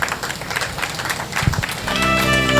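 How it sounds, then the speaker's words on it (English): Audience applause for a state governor's adviser on climate change at a recycling close-out event, a dense wash of clapping that swells and grows steadier toward the end, with music tones entering underneath. "Please put your hands together for her."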